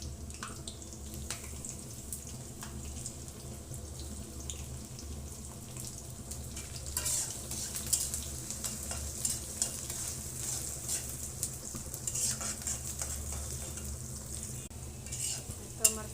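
Onions and green chillies frying in a pan for a home-cooked Bengali meal, a continuous soft sizzle broken by scraping stir strokes and occasional clinks, fairly quiet and close.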